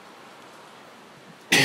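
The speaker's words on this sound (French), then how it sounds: "j'ai un peu une toux là qui dérange." A single sharp cough erupts abruptly at the very end after quiet room tone, from a person narrating a screen-recording tutorial indoors.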